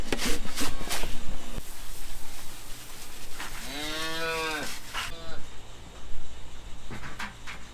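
A cow on a farm lets out one long, loud moo in the middle, surrounded by clattering farm noises and a person talking.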